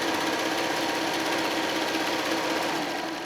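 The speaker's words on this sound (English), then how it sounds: "You can just stitch a little closer to the piping." A sewing machine runs steadily, stitching close along the piping of a pillow with an envelope back, a continuous loud, fast mechanical whir with no talk.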